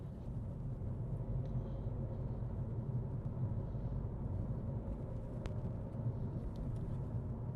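A car driving along a 50 km/h suburban road and picking up speed, a steady low engine and road rumble heard from inside, even and unbroken throughout.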